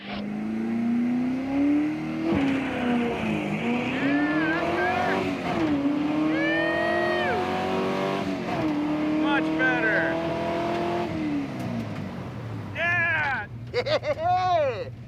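A budget drag race car launches hard off the line at the strip, its engine revving and climbing through gears in a loud, sustained roar, with excited voices talking over it and tires squealing near the end.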